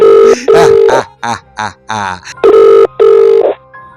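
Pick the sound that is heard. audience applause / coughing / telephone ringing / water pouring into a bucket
telephone ringing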